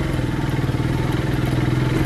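A motorcycle rolls over a rough, bumpy stretch of village road, its engine humming steadily and close with a continuous rattling clatter of the bike jolting over the uneven surface.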